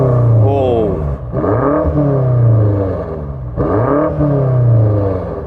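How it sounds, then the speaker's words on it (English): A BMW M5 engine revs repeatedly, rising and falling in pitch in two strong surges, loud and close, with a steady idle rumble between. "Now let's hear the BMW rev."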